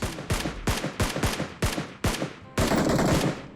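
Gunfire in a video game: a string of sharp, loud single shots at an uneven quick pace, ending in a sustained rapid automatic burst.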